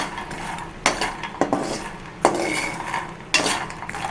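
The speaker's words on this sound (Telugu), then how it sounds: "ఇలా ఫ్రై చేసుకోవాలండి నెయ్యితో కూడా చేసుకోవచ్చు నేను మాత్రం బట్టర్తో చేస్తానండి" A spoon stirs fox nuts (makhana) frying in butter in a pan. Close, uneven metallic scrapes and knocks come every second or so over a faint background hiss, with no voices.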